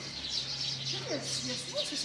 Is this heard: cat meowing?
no